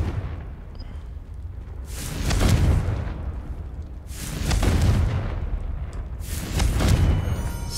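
Three booming blasts from the Confringo curse in Hogwarts Legacy, each swelling into a broad roaring burst about two seconds apart, loud against a steady low background.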